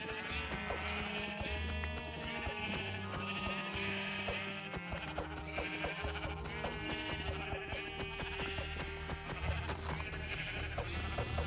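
Repeated sheep bleats from a Minecraft game, several overlapping calls against steady game background music, loud and continuous throughout.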